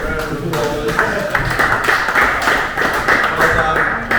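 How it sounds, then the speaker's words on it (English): A group at an off-road motorcycle training course gives a rider a round of applause, dense continuous clapping with voices talking and cheering underneath. "special round of applause."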